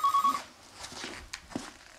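An old telephone bell rings in a short electronic trill at the start, then fades into quiet room noise with a few faint footsteps.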